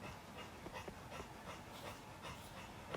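A dog sitting at close range pants in quick, rhythmic, breathy bursts, faint against a low background hiss.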